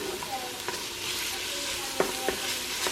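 Onions fry in a pan used earlier for browning meat, a continuous bright sizzle with a few clinking stirs of a utensil, close and without talk.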